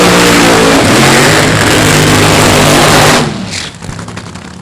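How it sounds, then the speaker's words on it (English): Supercharged, fuel-injected Hemi funny cars launching side by side at Mo-Kan Dragway, a deafening near, sustained engine roar that cuts off abruptly after about three seconds into fading rumble and crackle. "Supercharged, fuel-injected Hemis on both sides of the racetrack"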